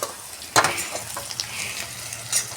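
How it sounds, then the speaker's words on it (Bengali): Potatoes and chopped onions fry in oil in a wok with a moderate, close sizzle, punctuated by a couple of sharp spatula scrapes against the metal; no talking. "ভালো করে ভেজে নিতে হবে আলু পেঁয়াজটা।"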